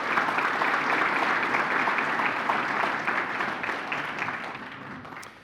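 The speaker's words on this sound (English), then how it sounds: "Would you please, a round of applause for our Stone Center staff." A gala hall audience claps for the event staff in a steady, dense round of applause that holds loudly before gradually thinning and fading toward the end.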